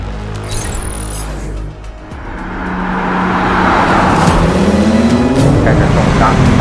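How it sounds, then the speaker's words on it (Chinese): A new BMW M4 on a race track accelerates hard, its engine note climbing steadily and growing louder from a quieter start, with a voice talking over the car. "在这个环节，你将驾驶全新 BMW M4 来体验极致的赛道驾控"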